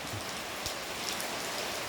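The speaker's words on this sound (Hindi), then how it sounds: "आज तो ऐसा लग रहा है जैसा पूरे दिन बारिश पड़ेगी।" Steady rain falls on a village farm, a soft, continuous hiss with a few nearby drip taps, moderately quiet and without voices.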